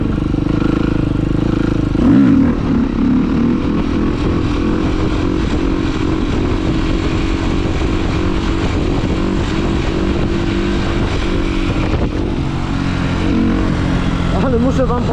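Steady motorcycle engine drone with heavy wind rush, loud and continuous throughout, recorded while riding at speed.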